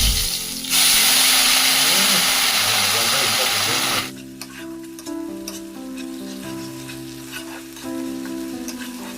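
Loud, steady sizzling of spice paste frying in hot oil with fried dried chillies, then dropping to a quieter crackle with clinks and stirring sounds.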